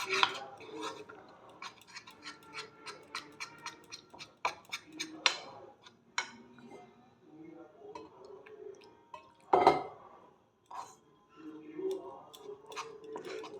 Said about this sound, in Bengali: এইভাবে ব্যাটারটাকে আমি তৈরি করে নেব